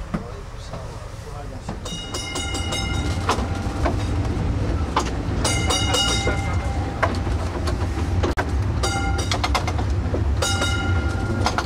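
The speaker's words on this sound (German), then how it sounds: "Bis 10 Uhr quält sich hier die alte historische Straßenbahn zwischen den Lieferfahrzeugen hindurch" An old historic tram grinding along a busy street in Istanbul's Beyoğlu district, a steady rumble with repeated high metallic wheel squeals and clanks, close and loud, with talking over parts of it.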